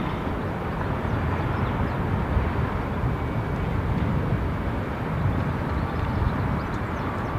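A SunExpress airliner lines up on the runway at Düsseldorf airport, its engines giving off a loud, steady broadband roar that holds without break throughout.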